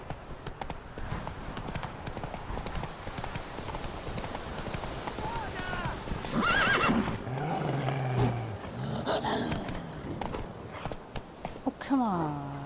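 Roach the horse gallops in The Witcher 3 with a steady, close clip-clop of hooves, joined midway by roaring, growling animal sounds and brief vocal cries.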